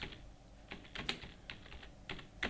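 Quiet typing on a computer keyboard while entering data in accounting software, irregular clusters of soft keystrokes close by, with no speech.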